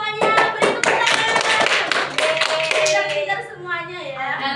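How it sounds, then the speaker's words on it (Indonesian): Children clapping together in a classroom, a dense, lively burst of many small hands that runs the whole time and fades slightly toward the end. "Beri tepuk tangan."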